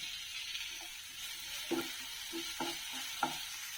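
Cumin seeds and thinly sliced onions sizzle in hot oil with a steady low frying hiss, broken by a few distinct stirring scrapes and clinks near the end, quiet and without talk.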